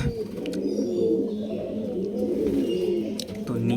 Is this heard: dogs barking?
no